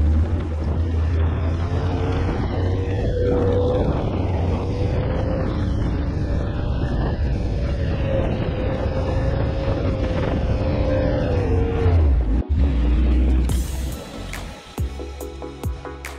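A Ski-Doo Skandic snowmobile drives along a slushy trapping trail, its steady engine drone rising and falling with wind buffeting, then easing off near the end.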